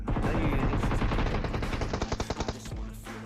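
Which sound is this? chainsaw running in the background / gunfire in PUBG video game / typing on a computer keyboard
gunfire in PUBG video game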